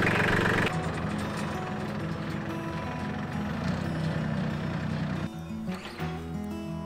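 A four-wheel-drive vehicle's engine rumbling as it drives over rough ground to collect firewood logs, a steady loud drone that shifts and dips near the end.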